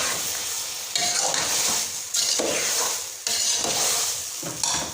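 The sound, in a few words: stirring chopped bottle gourd and ridge gourd into masala in a pan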